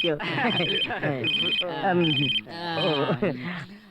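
A telephone rings in repeated bursts while a voice sings or talks loudly over it, the bright bell tones recurring in regular pulses.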